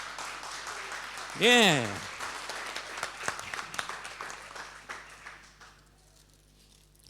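An audience at a church gathering applauds for a child, with a voice briefly heard over the clapping, which thins out into scattered claps and fades.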